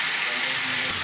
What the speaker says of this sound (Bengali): এই দেখো, এদিকে তোমার সবজিগুলো ভেজে নিচ্ছি।